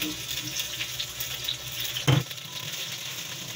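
Tomato and aromatics sautéing in a pan, a steady close sizzle with light scraping from stirring and a brief clatter partway through.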